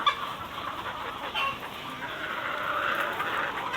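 Hens in a farm coop cluck steadily at close range, a soft continuous chatter of several birds with no voice over it.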